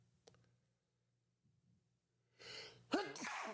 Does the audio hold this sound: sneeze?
yes